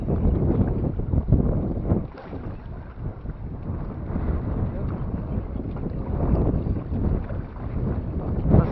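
Strong wind buffets the microphone in loud, continuous rumbling gusts at the Mollaköy ponds in Sapanca, with faint water movement underneath.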